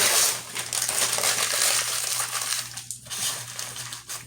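Paper is crumpled and pressed by hand into a gap in an alien sculpture armature, giving close, continuous crinkling and crushing noise over a steady low hum.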